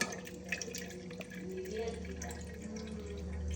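Ground ash gourd juice is strained through a strainer, the liquid trickling and dripping steadily into a container below, close and moderately quiet, with faint background sounds.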